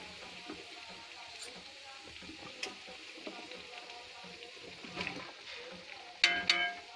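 Cauliflower frying in a pan for a mixed vegetable sabji, a faint steady sizzle with occasional soft stirring scrapes and a couple of sharper clinks near the end.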